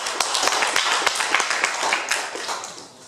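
Audience applause at a hackathon project presentation in Petrozavodsk, a short burst of brisk, steady clapping from a room of people that fades out at the end.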